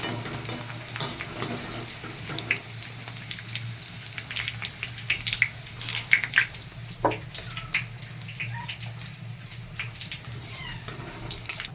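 Sliced onions frying in oil for birista for a mutton biryani give a soft, continuous sizzle, punctuated by scattered light clicks and scrapes of stirring, with a low steady hum underneath.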